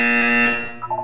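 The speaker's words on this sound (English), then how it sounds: "You will hear a buzzer." A loud, steady electronic buzzer from the game Portal 2 sounds once, about a second long, then fades into a faint warbling tone.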